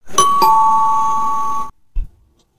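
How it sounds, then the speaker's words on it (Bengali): A house doorbell rings once with a bright two-tone chime that sustains, then cuts off, followed by a soft thump. "কলিং বেল টিপতে সদর দরজা খোলে দিয়া"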